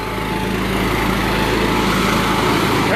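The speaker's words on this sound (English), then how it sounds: "I got this big old lawnmower coming around the corner" A big lawnmower engine runs steadily nearby near the Daytona Beach Pier, a loud, continuous buzzing drone that holds for the full stretch without a break and without any talking.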